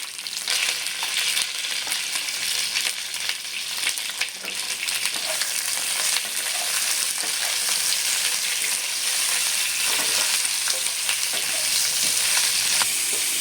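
Lightly salted pointed gourd (potol) fries in a pan with a continuous, loud, even sizzle that holds steady throughout.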